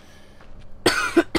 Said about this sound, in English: Sorry if I'm coughing too much